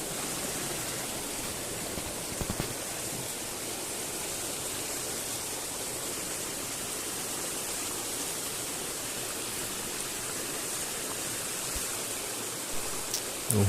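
Water rushes steadily in a stream, a constant close wash of noise with no pauses and no voices.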